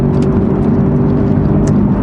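An Aston Martin engine with its primary catalytic converters removed runs with a steady, loud, close exhaust drone and a deep, even low rumble, no talk.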